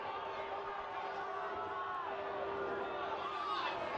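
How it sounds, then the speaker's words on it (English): Home supporters at a Birmingham Legion FC soccer match against Memphis 901 FC voice their displeasure at a referee's call, a steady, dense crowd roar of murmurs and groans that holds at a constant level throughout. "The home crowd obviously not pleased."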